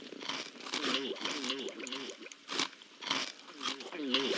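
Repeated crunchy, crinkly chewing bursts of a video game character eating sand, in a quick irregular rhythm, with a voice talking over them.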